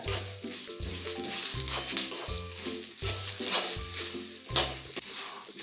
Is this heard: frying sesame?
yes